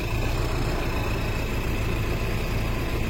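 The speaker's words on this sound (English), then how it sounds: "the engine badly needs coils" Car engine idling while it needs new coils, a steady, close low rumble that runs unchanged for about three seconds with no talk.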